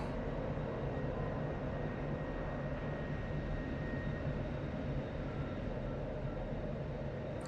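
An F-16C jet engine in the DCS flight simulator runs at idle with the speed brake extended, giving a steady, even cockpit rumble and whine that holds at the same level throughout.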